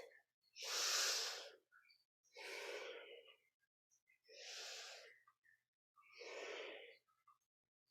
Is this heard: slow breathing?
yes